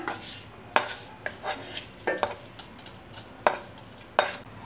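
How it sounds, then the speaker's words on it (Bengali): Bottle gourd fried in ghee is tipped into thickened milk in a pot, giving a handful of sharp spoon-on-metal clinks and scrapes at irregular intervals over a faint steady simmer, close and moderately loud. "এবার এর মধ্যে আমি লাউগুলো দিয়ে দেবো। ঘিয়ে ভাজা লাউটা আমি দিয়ে দিলাম।"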